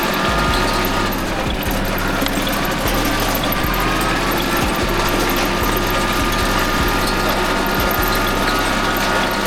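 A combine harvester threshing weeds in a soybean field, its engine droning steadily with a rattling, ratcheting mechanical clatter and periodic thumps, loud and close throughout with no talk.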